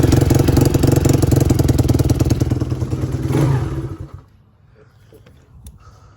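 A motorcycle engine idles loud and close with a steady, throbbing mechanical rumble for about four seconds, then cuts off, leaving near silence with a few faint clicks.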